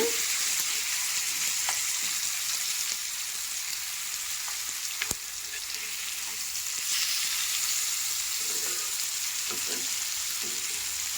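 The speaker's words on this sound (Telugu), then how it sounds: "సో ఎప్పుడైనా సరే చేప ముక్కల్ని జాగ్రత్తగా తిప్పాలి విరిగే అవకాశం ఉంటుంది" Fish pieces sizzle steadily in hot oil in a pan, a continuous bright crackle with occasional soft clinks and scrapes as each piece is turned one by one.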